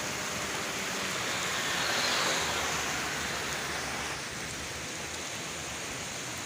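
Steady outdoor rain falling during a monsoon downpour, a continuous broadband wash that swells briefly near the middle and then settles, with no voices.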